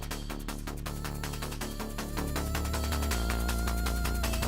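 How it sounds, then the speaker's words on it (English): Busy electronic video game music for a spider encounter, with a driving beat, ticking hi-hats and a pulsing bass line, steady and dense, with a fuller low layer entering midway. "the music is going to immediately add in the spider cue"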